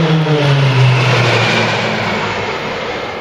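Roulettes PC-9 training aircraft fly past at an air show, their propeller engines producing a loud, steady roar whose droning pitch slowly falls as the planes pass and begin to recede.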